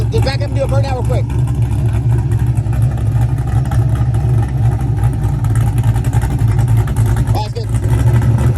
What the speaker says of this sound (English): Just back up and do a burnout real quick.